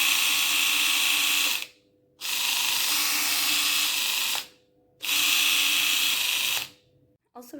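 A Braun Silk-épil 3 electric epilator whirs with a buzzy, rattling mechanical hum in three bursts of about two seconds each, separated by short silences.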